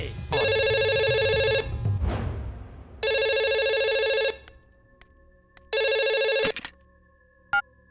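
A telephone rings in three loud electronic bursts separated by pauses, with a brief clatter and low rumble between the first two rings.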